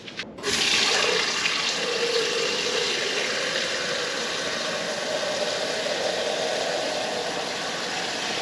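An IKEA watering can pours water steadily onto a green houseplant indoors, a continuous close splashing and trickling hiss that runs unbroken for several seconds after a brief start.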